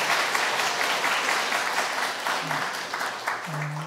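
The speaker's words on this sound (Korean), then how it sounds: "우리 잠깐만 일어나시면 우리 박수로 우리 축복하시면 좋겠습니다" A church congregation claps in blessing during a Korean Parents' Day Sunday service, dense steady applause filling the room, with a few low hums near the end.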